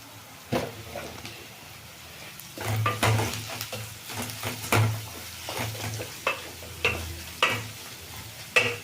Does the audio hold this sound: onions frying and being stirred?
yes